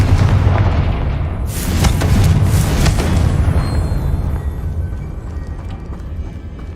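A Confringo fire spell blasts in Hogwarts Legacy, a loud, deep booming explosion with a bright burst that rumbles and slowly fades.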